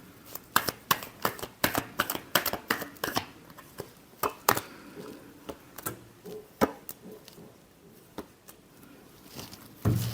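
Tarot cards are shuffled by hand in a rapid run of crisp riffling bursts, close and distinct, then thinning into scattered softer flicks near the end.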